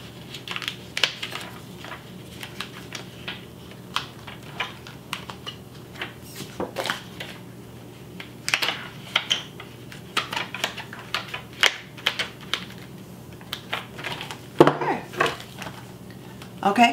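Thick paper dividers being pushed onto the discs of a disc-bound planner, with scattered soft clicks, rustles and taps of paper and plastic at close range, irregular and light, with occasional quiet talking.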